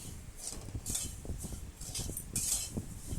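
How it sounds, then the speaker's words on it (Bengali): Dry broken wheat stirred and roasted in a kadai, with repeated metallic scraping and clinking of a spoon against the pan in quick irregular strokes, close and fairly quiet. "ডালিয়াটাকে হালকা রোস্ট করে নিতে হবে।"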